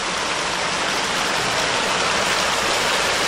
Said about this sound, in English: Here's a little waterfall.